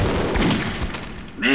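Rapid gunfire rings out in Half-Life: Opposing Force, a dense, loud burst of shots that fills the short moment and ends with a ringing tail.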